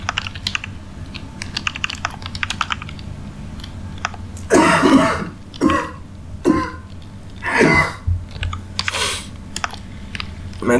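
Several coughs and throat-clearing bursts, fairly close and loud, come in a cluster of four or five separate bursts, with soft keyboard typing clicks ticking away in the background before and between them.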